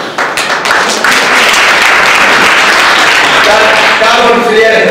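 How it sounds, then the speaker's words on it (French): Students of an economics and social administration programme at a university integration day applaud loudly and continuously, a dense wash of clapping that swells after the first second and holds steady throughout. "je vous demande de vous applaudir."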